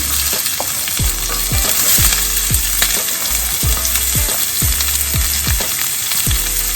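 Chopped onion frying in a hot pan with popping mustard seeds, a steady loud sizzle filling the clip, punctuated by repeated low thumps of stirring or tossing at a fairly regular rhythm.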